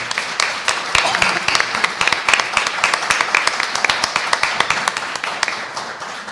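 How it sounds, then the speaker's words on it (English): An audience at a city council candidate forum in Colorado Springs claps for the candidates, a steady, moderately loud patter of many hands with sharp individual claps standing out, continuing evenly before tapering slightly at the end. "Let's give those candidates a round of applause, please."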